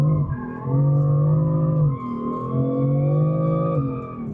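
A BMW M4 drifting on a race circuit, engine loud and close, holding a high rev, dipping, then climbing again as it accelerates through the slide, with faint tire noise underneath.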